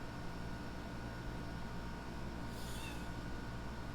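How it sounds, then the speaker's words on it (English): In The Sinking City on PS4 Pro, a single short cat meow sounds midway through, faint and thin above a constant low ambient hum with no talking. "My cat."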